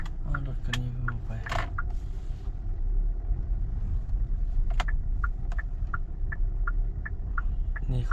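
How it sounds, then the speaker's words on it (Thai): A car pulls away on a morning street in Vientiane with a steady low engine rumble, mixed with scattered clicks and nearby voices. "รถคันนี้ออกไป"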